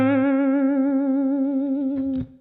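A sustained guitar note rings out with a gentle, wavering vibrato that bends sharp from tension, held for about two seconds before being cut off with a brief scrape.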